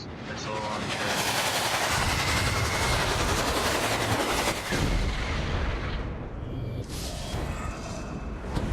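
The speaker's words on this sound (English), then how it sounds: "Missile launcher." A missile launcher fires in the video game Saints Row: Gat out of Hell, with loud, dense roaring blasts and rumbling explosions that fill the whole stretch, briefly dipping near the end.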